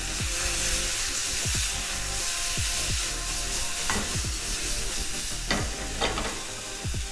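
Onions crisping in a hot pan with garlic bits, a steady sizzle running throughout while a utensil scrapes and stirs in repeated strokes, close and fairly loud with no voices.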